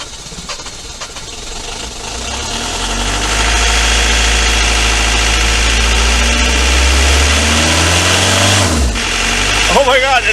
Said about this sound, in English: an Isuzu diesel in a Chevette, -6, and it's running.